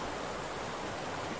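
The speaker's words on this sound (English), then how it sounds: "God, this water is so loud." Loud, steady rush of flowing water from a fishing video game, a continuous broadband wash with no breaks and no voices over it.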